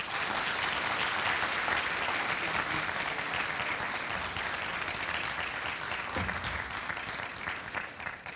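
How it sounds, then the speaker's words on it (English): A crowd at a community event greets Congressman Andre Carson with sustained, even applause that fills the room for over eight seconds and tapers only slightly at the end. "I want to have a great, great applause for our congressman"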